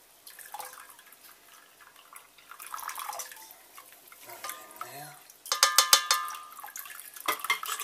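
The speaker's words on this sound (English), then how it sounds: "So I'll get these grains out." Wet brewing grains lifted out of the mash while making a Coopers Australian Pale Ale, with sloshing and a burst of dripping, trickling water draining back into the pot, close up, with faint clinks.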